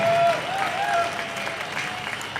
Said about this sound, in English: Please give a big round of applause for Pat King.